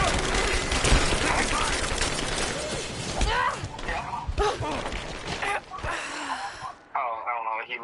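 Enemy gunfire in the video game Rise of the Tomb Raider, dense rapid shots and crackling volleys at close range under shouted voices, fading near the end into quieter game sounds.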